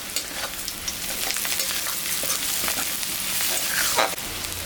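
Onion, green chilli, cumin and a little Gobindobhog rice sizzle in hot oil in a pan, a steady bright crackle with occasional scraping stirs, close and continuous.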